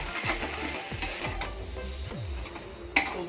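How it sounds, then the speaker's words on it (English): Egg and rice noodles for pad thai with chicken are stirred in a hot pan, with soft sizzling and a series of rhythmic scraping sweeps, close up and without speech. "let us mix the egg and let us mix it all with our noodles."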